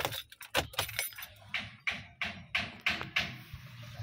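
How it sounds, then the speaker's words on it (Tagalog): A car key jingles and clicks against its ring and the ignition as it is handled and inserted, a string of sharp metallic taps and jangles close up with no one talking. "lagyan na susi"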